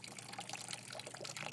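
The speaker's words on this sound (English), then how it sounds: "This hose is made for human drinking, so it's safe for you." Water runs from a drinking-safe garden hose by a pool, making a faint, steady splashing and trickling that lasts the whole moment.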